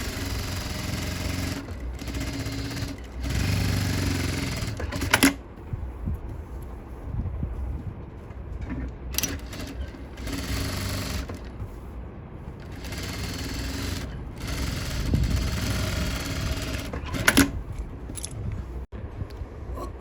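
A sewing machine stitches a blouse along a marked line in quick whirring runs, stopping and restarting several times with short pauses and faint handling noises in between.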